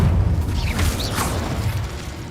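Incendio fire spell cast in Hogwarts Legacy, a close rushing burst of flame with crackling pops and a low booming rumble that fades over two seconds.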